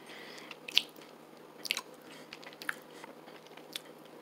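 Someone bites and chews a Love Good Fats chocolate chip cookie dough bar that has small bits in it, giving a few soft, close crunchy bites in an otherwise quiet room.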